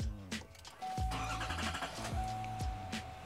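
A Duramax diesel truck engine cranks and starts, with loud, rhythmic starter and engine pulses, a steady tonal whine running through, and the idle settling in close by.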